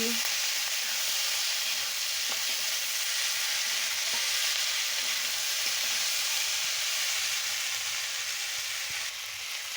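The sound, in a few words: green chilli and vegetables frying and being stirred in a pan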